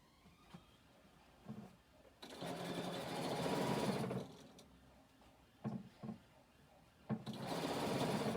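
A sewing machine stitches a half-inch seam in bursts: a short run near the start, a sustained steady whir from about two to four seconds, brief stutters, then another steady run at the end, with quiet pauses between.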